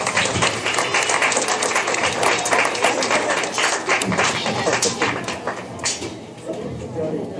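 Crowd at a 4-H/FFA swine show giving exhibitors a round of applause, steady clapping filling the arena that thins toward the end, with voices mixed in.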